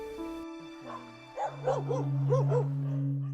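Dogs bark and yip in a short, excited burst at an animal shelter in Alfonso, Cavite, several rising calls close by over a steady background hum.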